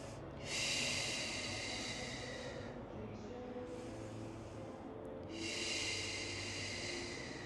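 Two long, airy breaths, an inhale and an exhale, are drawn close to the microphone during a seated yoga twist stretch, with a quiet pause between them.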